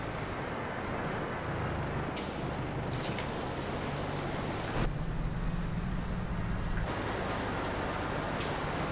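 A farm vehicle rolls downhill in Farming Simulator 22, a continuous low engine drone with road rumble and occasional sharp clanks, steady and fairly loud throughout.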